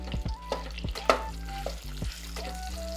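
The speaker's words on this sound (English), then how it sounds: "You can just throw in that Italian sausage and start breaking it up immediately." Italian sausage frying in a hot soup pot crackles and sizzles close by, while a utensil breaks it up with scattered scraping taps. There are no voices.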